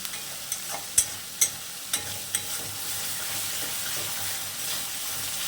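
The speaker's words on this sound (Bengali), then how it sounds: "এবার আমি এর মধ্যে ভেজে রাখা আলু আর চিংড়ি মাছটা দিয়ে দেবো।" Fried potatoes and prawns tipped into a hot pan sizzle steadily while a spatula knocks and scrapes against it in a handful of distinct strokes before the frying settles into a continuous hiss, with no talking.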